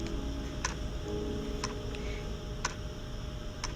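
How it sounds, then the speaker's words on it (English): A clock ticking in a quiet room, four sharp, evenly spaced ticks about one second apart over a soft steady background hum. "the sound of the clock ticking and ticking"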